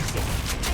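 Frost Fang shotgun firing in Killing Floor 2, a shotgun of fire and ice: a few sharp, loud blasts in quick succession over a dense, rumbling game soundscape, with no talking.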